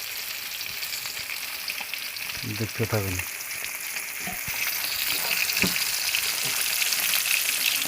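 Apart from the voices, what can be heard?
tilapia fish frying in oil with turmeric and salt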